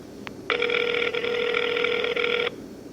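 An outgoing phone call rings unanswered: one long, steady electronic ring tone lasting about two seconds, clear and alone against a faint background hiss.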